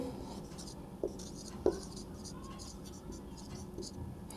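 Pen on paper during a class 12 maths exercise, heard as soft, faint scratching strokes with two brief sharper taps, under a low steady room hum.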